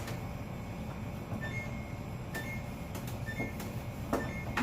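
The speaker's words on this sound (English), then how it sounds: "this beep you are hearing, guys, it's like a warning that the fridge is open" A refrigerator's open-door warning sounds as faint, short, high beeps repeating about once a second over a low steady hum while the fridge is being cleaned.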